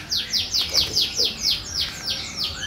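Magpie robins at a breeding farm, one loud, close bird giving a quick run of about eight sharp, descending chirps in an even rhythm, with faint calls from others behind.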